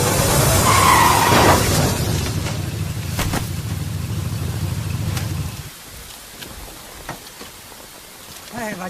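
A car skids on a rain-soaked road after its brakes fail: a loud, sustained rush of tyre and road noise lasting several seconds, then cutting off abruptly, leaving faint sporadic sounds.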